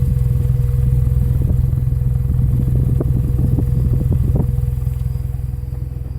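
A custom Kia car engine runs with a steady low rumble and responds with brief revving surges as the gas is pressed, loud and close, with no talking.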